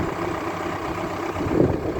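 A tractor engine idles steadily in a vineyard during trellis wire installation, a low continuous rumble at moderate level with a slight swell near the end and no voices.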